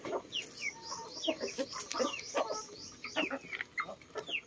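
Heritage chickens cluck close by in a backyard coop, with a busy run of short rising calls and murmurs that overlap one another at a quiet level.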